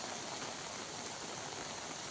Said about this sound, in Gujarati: જૂનાગઢ શહેર અને જિલ્લામાં ધોધમાર વરસાદ વરસ્યો છે